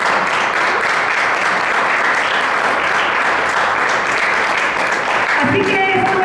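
A church congregation applauds loudly and continuously, a dense wash of many hands clapping, with a voice cutting in near the end.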